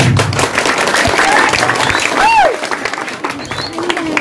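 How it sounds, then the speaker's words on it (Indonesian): A crowd at a Balinese calonarang comedy performance claps loudly, the applause mixed with cheering and whistles and a voice or two, then thinning slightly toward the end. "tepuk tangannya dong"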